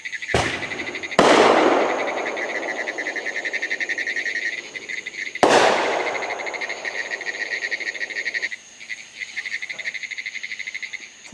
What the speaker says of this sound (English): It's the 4th of July and our neighbors are putting off fireworks.